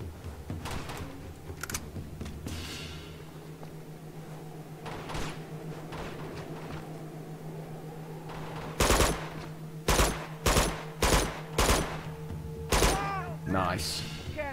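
Sniper rifle shots crack out in a rapid series of sharp, loud reports during an Uncharted 2 firefight, layered over a steady game soundtrack hum and scattered earlier impacts.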